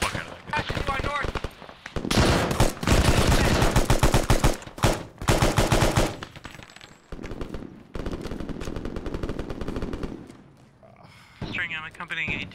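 Stryker armored vehicle weapon fire in the military shooter Arma 3 roars in long loud sustained bursts with short gaps, close and heavy, alongside bits of radio voice chatter.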